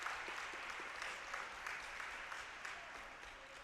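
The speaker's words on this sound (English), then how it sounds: "He still wants applause." Applause from spectators at a youth bocce match between Union and Mohawk, a steady patter of clapping sustained throughout the short stretch at moderate, somewhat distant level.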